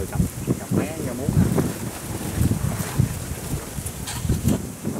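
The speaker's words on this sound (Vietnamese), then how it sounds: "Gió quá gió rồi cả nhà ơi." Strong wind buffets the microphone on a small boat out on the water while frogs are being caught, a rough, gusty roar with voices talking underneath.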